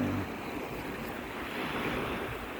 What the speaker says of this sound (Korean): 파도가 밀려오는 거좀 보세요.